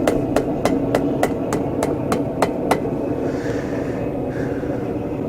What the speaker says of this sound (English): you still may need to bring it back to the hammer. Flatten it out again